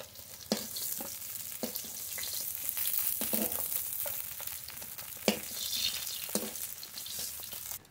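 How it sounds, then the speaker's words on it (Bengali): Pieces of rohu fish fry in hot oil with a steady, close sizzle, broken by occasional sharp scrapes and taps as they are stirred and turned in the pan. "মাছ খুব ভালো করে ভেজে নিয়েছি"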